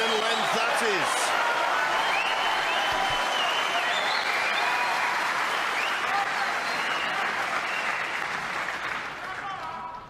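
Sustained applause from a snooker crowd at the Masters final between Ronnie O'Sullivan and Mark Selby, a dense, loud clapping wash that holds steady for about ten seconds before easing slightly at the end.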